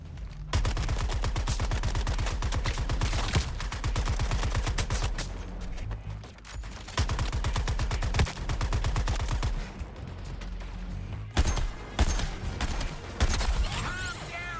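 Video game firefight from Suicide Squad: Kill the Justice League: rapid bursts of automatic gunfire in long sustained volleys, loud and close, separated by brief pauses, with occasional voices mixed in.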